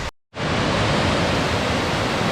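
A waterfall on a heritage trail in British Columbia roars as a loud, dense, steady rush of falling water that fills everything, after a brief silent gap at the very start.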